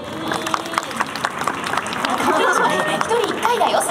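A crowd at a Hiroshima Toyo Carp vs Chiba Lotte Marines baseball event claps to vote for the mascot Zoo-chan. The applause builds from scattered claps into a fuller patter, mixed with crowd chatter and voices.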